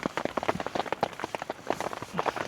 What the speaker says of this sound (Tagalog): Tapos naririnig mo pa yung patak ng ulan.